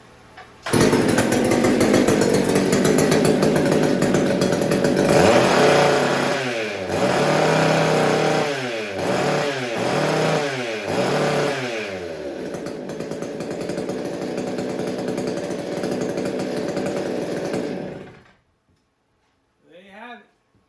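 Old Homelite 150 Automatic and McCulloch 610 chainsaws run loud and close, a continuous two-stroke buzz with several rev-ups and drops in the middle before cutting off near the end.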